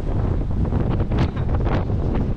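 Strong wind buffets the microphone in gusty, roaring bursts, loud and close, with no voices.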